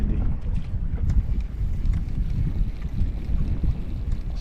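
Wind buffets the microphone in a constant low rumble while fishing, with water lapping faintly around a small boat.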